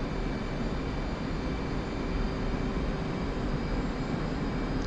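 An F-16 jet engine roars steadily in the DCS flight simulator game, a continuous broadband rumble with an even level and no one talking.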